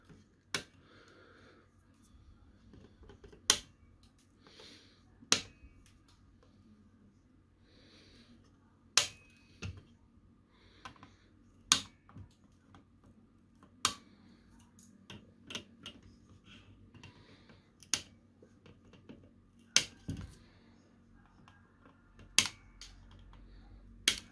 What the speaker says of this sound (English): just snip off the extra bits